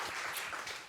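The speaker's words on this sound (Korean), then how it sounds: "우리 하나님께 영광의 박수 올려드립니다" Brief burst of congregational clapping during a church worship service, fairly faint and quickly tapering off, with no speech over it.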